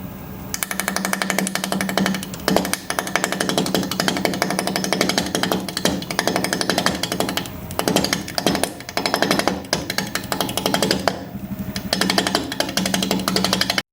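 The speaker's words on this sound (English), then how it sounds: "We're going to be turning at about 700 RPM, and I'm going to use this shallow spindle gouge." A sycamore blank spins on a wood lathe at about 700 RPM while a shallow spindle gouge cuts it, producing a dense, rough, continuous chattering scrape with rapid irregular knocks, close and loud without talking.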